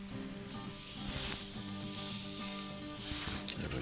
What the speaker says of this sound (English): let's go ahead and flip these fillets over